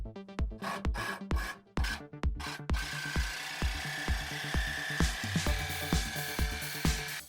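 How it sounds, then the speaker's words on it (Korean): A jigsaw buzzes loudly through sheet steel on a Renault Master camper van conversion, with sharp rhythmic strokes at first, then settles into a continuous harsh rasping cut, close up and without talk. "한쪽 모서리에 드릴로 구멍을 뚫어주고 직소로 잘랐습니다"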